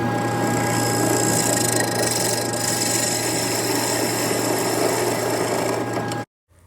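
A lathe turning tool scrapes steadily across the inside bottom of a segmented wooden bowl of walnut, orange osage and cherry, a loud continuous rasp over a motor hum that cuts off abruptly near the end.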